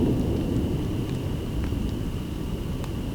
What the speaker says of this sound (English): Got thunder all around.